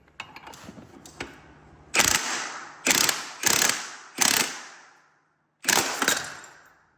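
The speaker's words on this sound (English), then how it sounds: "We just had to break the edges off to get a regular puller on it." Mechanical puller working an old, stuck spring-loaded pulley off a long-neglected car, producing five or six sharp metallic clicks and snaps close by, each burst ringing briefly, spaced about a second apart.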